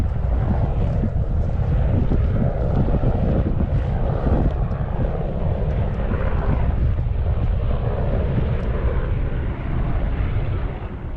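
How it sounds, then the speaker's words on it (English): Helicopter flying overhead on open moorland in Devon, a loud sustained rotor and engine roar with buffeting wind noise, steady throughout before easing slightly at the end. "The helicopter flew over about 3 times."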